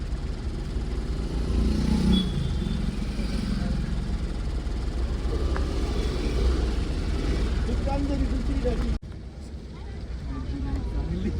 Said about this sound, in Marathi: full traffic jam